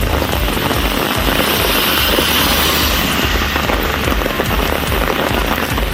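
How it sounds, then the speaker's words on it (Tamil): Heavy rain pours down in Karaikal during Cyclone Fengal, a dense, steady roar of drops hitting surfaces that stays loud and unbroken throughout, with no voices. "காரைக்காலிலும் பல்வேறு இடங்களில் கனமழை கொட்டியது."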